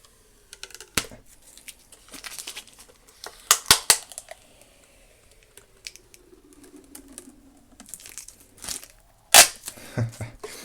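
Crinkling, crackling stretch plastic film being pulled and handled, with sharp snapping pops and rustles in irregular bursts, fairly close.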